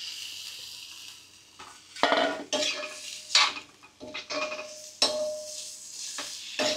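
A spatula scrapes and clatters in a pan as mutton liver with red masala is stir-fried, with irregular metallic strokes over a soft sizzle. Close and fairly loud, with no one talking.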